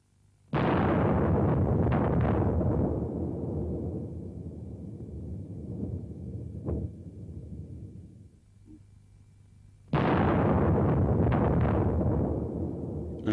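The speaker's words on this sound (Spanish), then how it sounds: "La explosión fue equivalente a la que hubieran provocado más de 50 millones de toneladas de TNT" The 1961 Soviet test of the largest nuclear bomb ever dropped, equivalent to over 50 megatons of TNT, detonates in a massive roaring blast that rumbles and fades, followed by a second sudden deep explosion.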